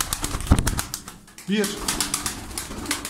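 Tumbler pigeons flap their wings in short bursts, and a soft coo swells up among them. Someone talks over the birds throughout.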